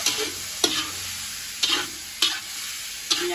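Wild mushrooms frying in a pan, a continuous soft sizzle broken by four sharp scraping stirs of a utensil against the pan, close and alone with no talking.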